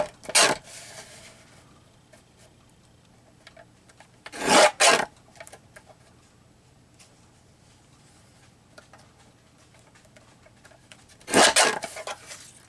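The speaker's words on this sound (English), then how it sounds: "I'm going to cut real wide on it and then stick it in my trimmer." Three short, harsh rasping bursts of a paper trimmer blade slicing through paper, close by, separated by long quiet stretches, with no talking.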